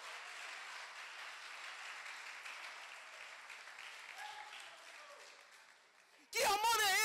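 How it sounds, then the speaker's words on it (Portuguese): A church congregation applauds during a family congress session, a long burst of steady clapping that gradually fades before a voice breaks in near the end. "Aplaude a Ele bem forte"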